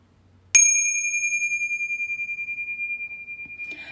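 A small bell is struck once before a tarot card reading, giving a bright, clear ding that rings on and slowly fades over several seconds in an otherwise quiet room.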